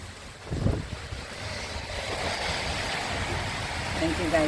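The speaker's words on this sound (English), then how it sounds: "We're having lots of rain, very windy." Strong wind gusts roar steadily outdoors on a rainy evening, a broad continuous rush with a brief knock near the start.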